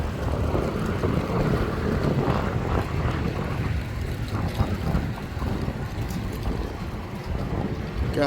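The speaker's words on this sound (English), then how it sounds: "Got windy all of a sudden." Sudden gusts of wind buffet the microphone outdoors on an urban walk past a strip mall, a steady loud rumbling roar with no talk.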